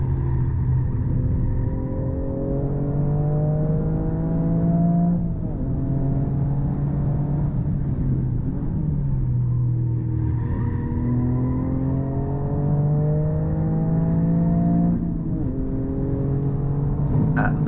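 Race car accelerating around the Donington track, a loud continuous engine note rising through the gears in repeated upward sweeps with brief dips at each shift, close and alone.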